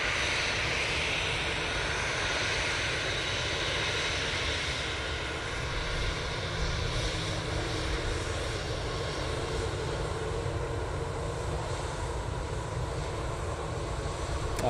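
An Emirates cargo jet in Courier Express livery approaches Manchester Airport as a loud, continuous engine roar that stays steady across the whole stretch with no talking.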